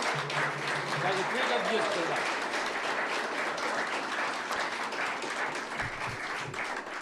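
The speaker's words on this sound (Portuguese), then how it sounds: "Um abraço, uma salva de palmas" A crowd in a Brazilian Senate session gives a round of applause, steady, moderately loud clapping that continues for several seconds beneath a voice speaking at the start.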